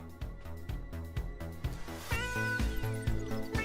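A cat meows in the video game Lies of P, a few short clear meows over a repeating musical background, fairly close and distinct.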